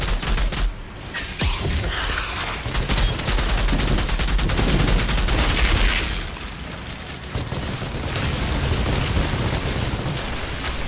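Rapid bursts of automatic weapon fire and heavy booming blasts from combat in the shooter game Outriders, loud and dense with a short lull midway, no talk over it.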